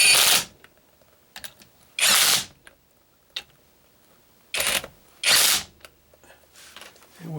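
Fresh bolts being tightened on a reversed 1969 Camaro steering box with a power tool, heard as four or five short, loud mechanical bursts separated by quiet pauses, with no talking.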